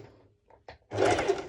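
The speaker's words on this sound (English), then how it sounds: "I'm going to do the bust stitching. It's a normal straight stitch with the highest stitch length." A sewing machine runs a straight stitch on slippery bikini-top fabric, a short steady mechanical whir after a few faint clicks and handling noises, close and alone.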